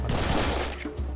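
Dense burst of enemy gunfire in the shooter game Serious Sam 3 BFE, a loud continuous volley of rapid overlapping shots lasting about a second with no talk.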